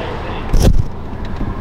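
A car pulls away with its panoramic roof open, a brief surge of engine and road rumble swelling up for a moment before settling into a steady low cabin hum.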